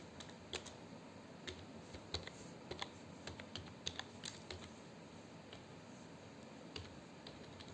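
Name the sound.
typing code on computer keyboard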